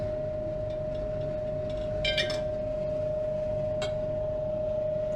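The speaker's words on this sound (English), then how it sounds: "I'm going to add our stir bar in here to help that reaction." Magnetic stir bar dropped into a glass flask of solution: a single short bright clink near the middle, a fainter tap later, over a steady electrical hum from lab equipment.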